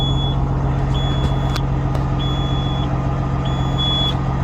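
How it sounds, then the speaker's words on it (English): A Peterbilt 379 truck's low air pressure alarm sounds in a close series of steady, high beeps, each lasting about half a second, over a constant low idling engine rumble. "It's our low air alarm going off right now."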